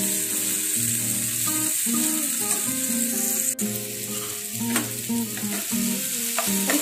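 Chopped vegetables and capsicum stir-frying in a hot pan for chowmein, a continuous close sizzle with scraping and stirring of a spoon against the pan throughout.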